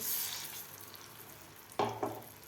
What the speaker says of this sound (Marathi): कमी गॅसवर आपल्याला हे मिश्रण परतून घ्यायचं आहे